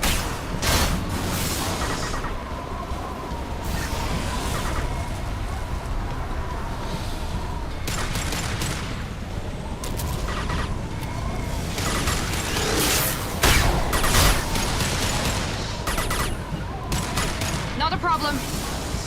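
Dense gunfire in an engineer-class video game, with rapid bursts and booming shots recurring throughout over a continuous mechanical background, and voices heard intermittently.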